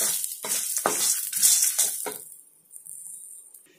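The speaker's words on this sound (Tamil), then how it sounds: "சும்மா அந்த எண்ணெயிலே அப்படியே பிரட்டி எடுத்துக்கலாம்." Ingredients for a vegetable kheema dosa stirred in hot oil in a pan, a steady close sizzle broken by several scraping stirs and a light metallic clink, fading quieter toward the end.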